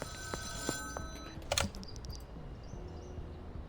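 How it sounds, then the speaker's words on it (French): A telephone rings in the video game Schedule 1, a steady electronic ring with repeated tones, mid-level and alone, mixed with faint clicks like keyboard taps. "Parler à Oncle Nelson sur un téléphone, bah ok."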